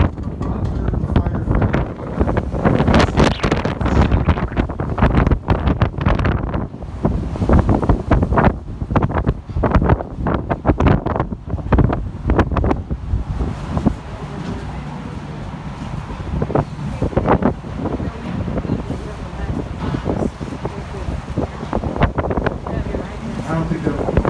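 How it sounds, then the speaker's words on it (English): Strong wind of about fifty miles an hour buffets the microphone on an architectural boat tour, booming in heavy gusts that ease off midway, with a tour guide talking over it. "There's a 50-mile-an-hour wind."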